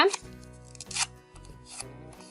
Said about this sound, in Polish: ten kwadrat musimy złożyć na pół w poziomie